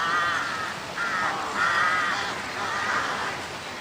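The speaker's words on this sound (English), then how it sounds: "Carrion crows." Carrion crows caw outdoors in a few rough, harsh bursts spread through a few seconds, moderately loud over a steady background hiss, with no voices.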